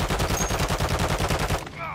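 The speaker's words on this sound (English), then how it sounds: "Yeah, I shot at a ghost." Sustained rapid automatic weapon fire from Warzone's Haunting event, loud and close, rattling steadily for about one and a half seconds before cutting off into game sounds.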